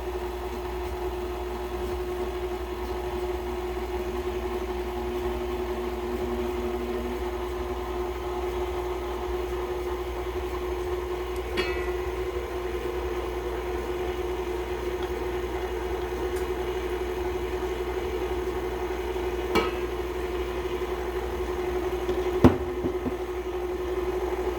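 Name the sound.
stand mixer running on low mixing cake batter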